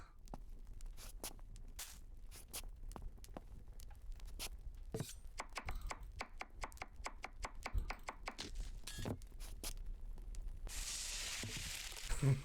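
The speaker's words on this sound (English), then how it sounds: "Chop an onion and add it to the pan." Rapid, even knife chops on an onion in a cooking video game, a steady run of close, crisp taps with a brief hissing burst at the end.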